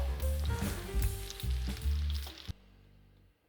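Potato kookoo patties frying in a pan, a loud close sizzle with bubbling crackle that cuts off abruptly partway through, leaving near silence.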